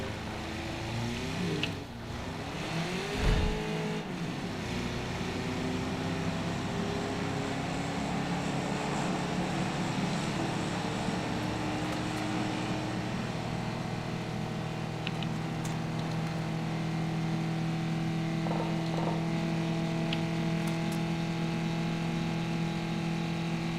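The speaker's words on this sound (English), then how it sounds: "Car behind us coming on the road." A car driving on a road in a video game, its engine droning steadily at moderate level throughout with a rising pitch sweep early on and faint background noises, no talk.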